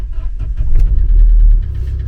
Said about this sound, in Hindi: तो पहले गाड़ी करते हैं स्टार्ट।